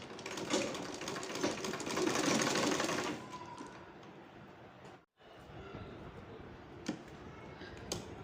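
A sewing machine stitches the veins of a fabric leaf design. A loud, rapid, steady whirring runs for a few seconds, then eases to a softer hum, stops briefly and resumes with faint clicks.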